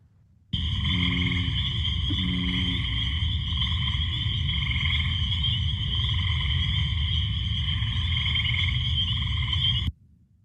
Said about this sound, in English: There are 4 frogs calling in this little recording.